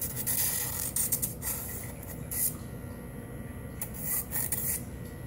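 Electric nail Dremel buffing nails with a grit bit, a continuous close-up whirring rasp that swells and fades as the bit meets the nail, quiet and alone.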